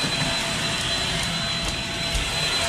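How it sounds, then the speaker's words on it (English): A vacuum cleaner runs steadily with a loud, constant whooshing roar and a faint high whine, with no voices. "Wash it with that vacuum."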